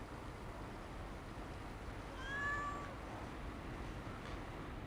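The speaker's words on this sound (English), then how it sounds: "Just an abandoned town cat, witness to the fact that only 2 months ago this town was inhabited." A lone cat in an abandoned town meows once, a short plaintive cry that stands out faintly over a steady wind and background hiss.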